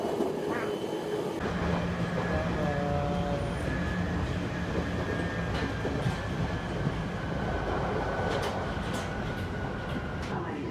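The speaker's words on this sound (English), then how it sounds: "No one cares where this train's going." A train rolls along the rails with a loud continuous rumble and clatter, metallic squeals rising briefly over the steady roar.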